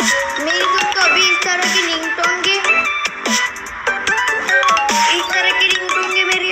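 A bright electronic ringtone melody plays loudly in short repeating musical phrases, with a voice speaking over it at times.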